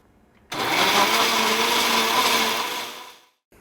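A high-end blender whirs a banana, strawberry, kale and whole flaxseed smoothie, starting abruptly and running loud and steady for about three seconds before winding down to silence.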